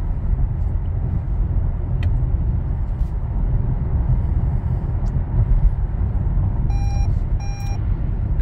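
Two short electronic lane-keeping warning beeps from a 2023 Toyota Camry XSE sound near the end over the steady low rumble of the car driving on the road, with no talking.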